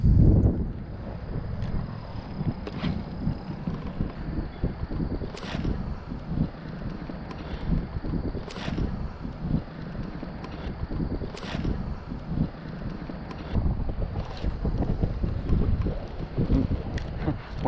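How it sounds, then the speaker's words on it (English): Wind gusting outdoors at night during bass fishing, a steady rough rumble of buffeting against the microphone with occasional sharper knocks, no one talking. "wind blew me over a little bit"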